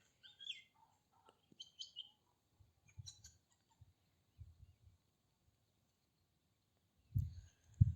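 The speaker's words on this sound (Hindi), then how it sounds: "मैं एक पेड़ के नीचे खड़ा हूँ और उस पर पक्षियों की चहचहाट सुनिए।" Birds chirp in a tree in the Chambal ravines, with scattered short high calls and a few louder bursts near the end, set against quiet surroundings with low rustling.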